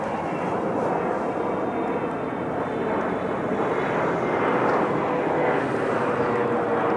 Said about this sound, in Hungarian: És hát megint egy repülőgép